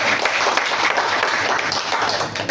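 A church congregation claps together in steady, dense applause that fills the space at a constant level from start to finish, without pause.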